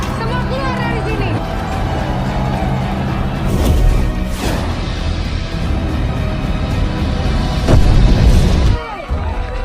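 A bomb explodes in the air with a heavy boom amid chaotic crashing and rumbling, followed by a second blast, all dense and loud over a noisy, turbulent background, in the film Sri Asih (2022).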